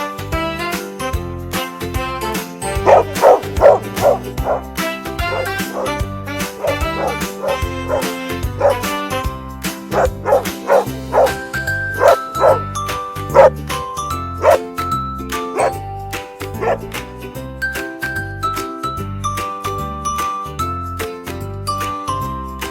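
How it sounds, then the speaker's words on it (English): A cartoon hunting dog barks in repeated bow-wow yips over a jingly, tinkling musical backing, the barks coming in quick bursts that rise and fall throughout. "A hunting dog barked it without a care."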